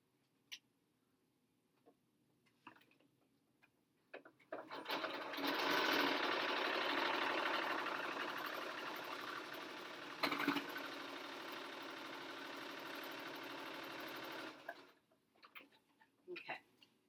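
A sewing machine back stitching through several thick layers of a fabric face mask runs in one steady, close whirring burst of about ten seconds, framed by quiet clicks and handling noises before and after.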